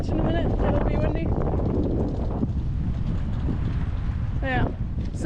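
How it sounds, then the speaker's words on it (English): Strong wind on a beach in Spain roars steadily and buffets the microphone throughout, with brief faint voices surfacing under the rushing noise. "so that means it's very windy"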